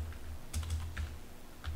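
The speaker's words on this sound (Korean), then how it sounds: "인트로에 bg라고 해서 입력을 한번 해볼게요" Typing on a computer keyboard, a few soft close key clicks in small quick bursts over a low steady background hum.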